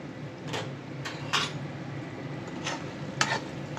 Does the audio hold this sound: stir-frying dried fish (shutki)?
yes